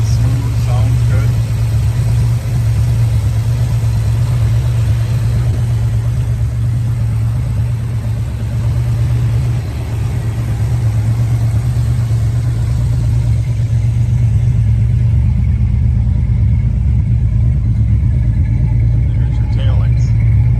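Muscle car engine idling steadily at dusk, a loud continuous low rumble held close throughout with little variation.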